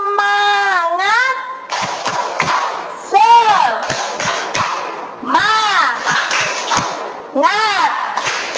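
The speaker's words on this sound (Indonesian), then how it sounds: "1, 2, 3. Tepuk semangat." A group in an Indonesian teacher training session performs a rhythmic clapping chant, sharp claps and thumps punctuating loud, unison shouted syllables in short bursts, fairly close and lively.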